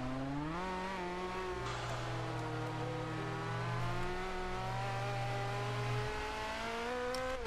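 Race car engine in Forza Motorsport 5 revving and climbing through the gears, a continuous rising whine with pitch sweeps as it shifts, steady and loud throughout.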